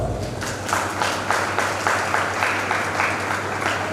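Applause from a church wedding congregation, a steady rolling patter of many hands clapping at close range with a low hum beneath, sustained throughout without talk.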